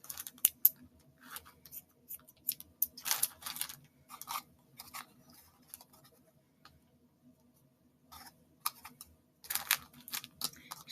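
Scissors snip through fake spider web for a Halloween craft in quick, sharp, close clicks. The cuts come in irregular clusters with quiet gaps between them, and no voice is heard.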